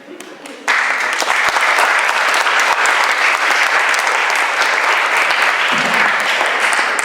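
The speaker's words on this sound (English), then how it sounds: "Give yourselves a round of applause." Audience at a Friday Forum talk with the mayor of Urbana breaking into steady, dense applause after a short quiet moment, the clapping staying loud and continuous to the end.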